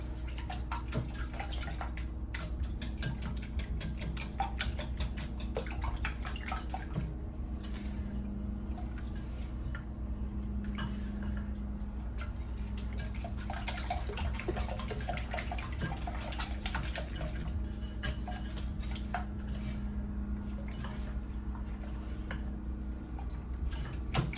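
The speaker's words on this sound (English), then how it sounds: "give this a whisk just to break up all of those egg yolks" Egg yolks whisked in a bowl for a low-carb breakfast, a steady stream of rapid, light clinks and taps running throughout over a low kitchen hum, with no talking.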